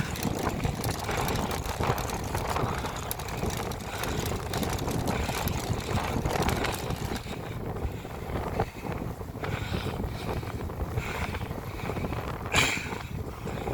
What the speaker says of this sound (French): Le vent comme il souffle là, c'est pleine bille